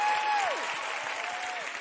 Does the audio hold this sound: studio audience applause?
yes